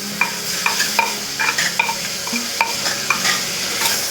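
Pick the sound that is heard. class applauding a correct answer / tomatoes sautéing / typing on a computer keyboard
tomatoes sautéing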